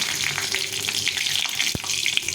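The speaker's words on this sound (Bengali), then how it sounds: "এখানে আরেকটু তেল দিয়ে শুকনো লঙ্কা আর সাদা জিরে দিই" Dried red chillies and cumin seeds frying in hot oil for a fish-bone chorchori curry, a close, bright crackling sizzle with a single sharp knock partway through.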